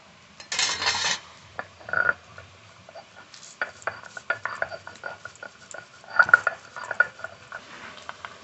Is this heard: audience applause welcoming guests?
no